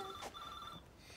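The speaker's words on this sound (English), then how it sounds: "I'll just get the phone." A telephone rings indoors in a home, a brief electronic bell-like trill with a short pause and then a second burst, heard clearly with nobody talking over it.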